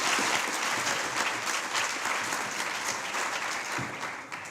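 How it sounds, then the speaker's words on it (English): Steady applause from an audience at a moot court competition awards ceremony, a dense wash of clapping that holds evenly for several seconds and eases slightly near the end. "Congratulations, a round of applause."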